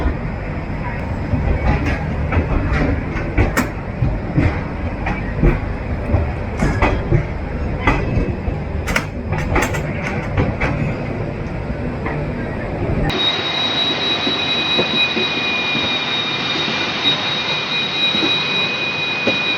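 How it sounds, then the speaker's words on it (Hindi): Garib Rath Express departing Lucknow Junction, heard as a steady loud train rumble and clatter of rail cars, then an abrupt change to a quieter interior hum with a faint whine. "राइट टाइम जो है अपनी गरीब रथ एक्सप्रेस डिपार्ट हो चुकी है लखनऊ जंक्शन से"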